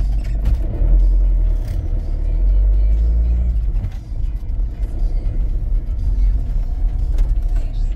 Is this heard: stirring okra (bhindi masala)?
no